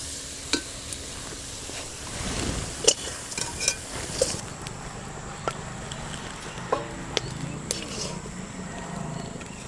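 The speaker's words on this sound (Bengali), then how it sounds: "আর এবার ভালো করে পুরটাকে পাকাতে হবে" Coconut filling with cardamom powder is stirred in a pan on the stove, a faint soft sizzle with scattered clicks and scrapes of the spoon against the metal, while a voice talks over it.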